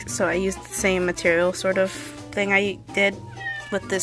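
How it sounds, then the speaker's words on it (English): A pet cat meows repeatedly at close range, several drawn-out calls in a row while a person talks over them about making a craft mask. "that's my cat"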